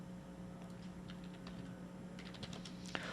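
Someone types on a computer keyboard at a desk, with faint, scattered key clicks under a low steady room hum and one sharper tap near the end.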